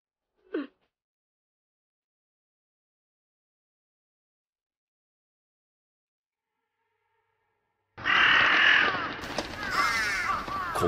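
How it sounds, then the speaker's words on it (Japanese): A single short crow caw rings out near an abandoned school building, followed by a long silence before voices and other sounds begin. "カラス鳴いてるし。"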